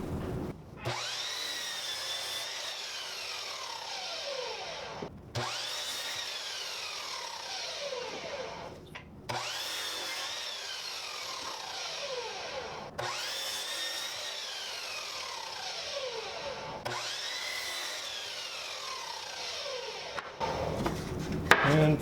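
Saw cutting wood pieces to length on a crosscut sled, four separate cuts each rising and falling in pitch with short pauses between, close and loud with no talk.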